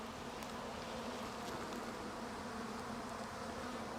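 Many honeybees hum and buzz in a dense, continuous drone during an autumn swarming flight, a steady swarm sound with no voices.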